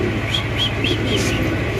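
Pigeons cooing at a pigeon market, a run of soft, rhythmic coos repeating about every quarter second over a low hum of background crowd noise.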